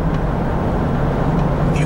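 A Chevrolet Blazer with a 4.3 Vortec V6 drives along, its engine a loud, steady low rumble heard from inside the cabin with road noise and no change in pace.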